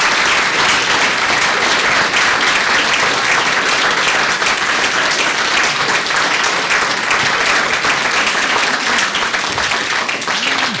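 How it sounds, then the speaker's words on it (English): An audience at a legislators' ceremony honoring 2012 scholarship winners gives a loud, sustained round of applause to families and supporters, with dense overlapping clapping heard close and continuous throughout. "Let's give them a round of applause as well"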